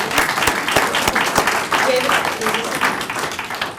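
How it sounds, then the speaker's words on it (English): A university lecture audience breaks into applause for retiring faculty members, a full crowd of clapping with a few sharper individual claps standing out at the start, continuing steadily throughout. "Let's give all of our retiring faculty members one more round of applause."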